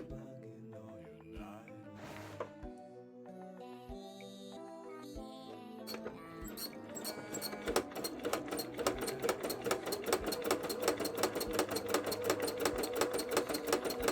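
An embroidery sewing machine stitches zigzags on a cosplay panel. It starts with scattered clicks and motor whirs, then runs into a steady, rapid mechanical chatter. The sound is close but fairly quiet, and no one speaks.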